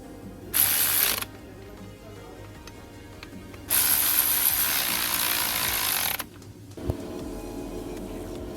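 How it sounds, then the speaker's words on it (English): A ratchet tightens bolts on a 2004 BMW 320d alternator during engine bay work, heard as two loud bursts of rapid close clicking separated by a pause, then a knock and a fainter scrape. "I'm going to tighten up on these 2 bolts"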